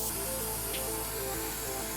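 Continuous close hiss of a spray gun laying a second coat of primer on a car bonnet, with a faint tonal hum underneath that shifts in pitch and a brief brighter burst of spray partway through.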